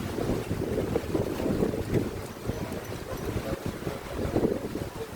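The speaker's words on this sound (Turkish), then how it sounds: "şu anda çok yoğun bir rüzgar var bulunduğum yerde İznik'te" Strong wind buffeting the microphone in continuous low rumbling gusts at İznik, with a faint wash of water or waves in the background.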